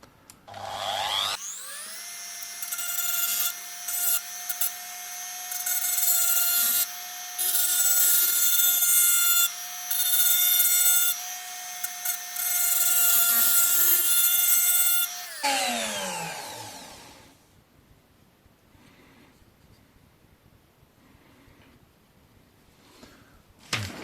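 A rotary engraver fitted with a fine corundum bit grinds a knife edge, a high, steady motor whine with gritty grinding over it, broken by brief interruptions, then spinning down and fading to near silence.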